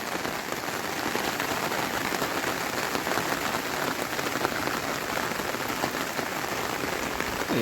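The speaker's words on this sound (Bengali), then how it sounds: "এত বৃষ্টি হলে পারা যায় না" Heavy rain pours down steadily onto an umbrella outdoors, a dense, even, close patter that never lets up.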